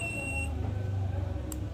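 A multimeter continuity buzzer beeps while diodes are tested on the board of a dead LG air conditioner: a steady, shrill tone lasts about half a second, then a brief sharp chirp comes near the end over low electrical hum.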